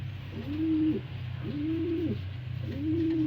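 Pigeons coo in their loft, three rising-and-falling coos in steady succession over a constant low background hum, fairly close and clear.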